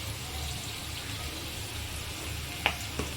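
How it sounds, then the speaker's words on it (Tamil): Onion, green chillies and curry leaves sauté in a pan for rava upma, a steady soft sizzle with a couple of brief clinks of a spoon near the end. "இது எல்லாத்தையும் நல்லா வதக்கிக்கோங்க."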